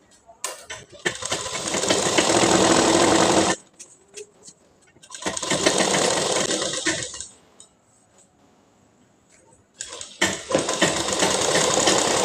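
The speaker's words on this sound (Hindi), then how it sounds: "अब इसको रख के इस तरीके से हम सिल लेंगे" A sewing machine stitches a salwar fabric in three loud, steady bursts, with short pauses and a quieter stretch between runs, no talk.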